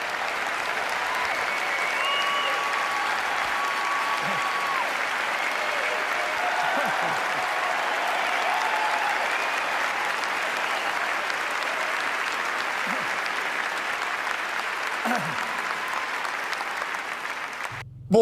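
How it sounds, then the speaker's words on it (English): Members of the public at a city council meeting keep up a long, steady round of applause for nearly eighteen seconds, a dense, even roar of clapping that cuts off abruptly at the end. "If you could please hold your applause,"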